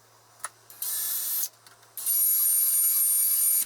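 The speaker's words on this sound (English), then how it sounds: "I'm going to drill it this time so I don't lose it" A drill bores into a cracked cast iron radiator in short bursts: a brief start, a longer grinding run, a pause with small taps, then a sustained high-pitched drilling whine that continues close and loud to the end.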